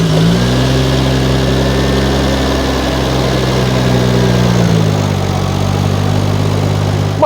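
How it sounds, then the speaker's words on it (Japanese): A Nissan Skyline GT-R's twin-turbo RB26DETT engine fires up and settles into a deep, steady idle with a slightly lumpy low rumble, loud and close, its pitch dropping a little toward the end. "じゃあちょっとエンジンかけてみますね。"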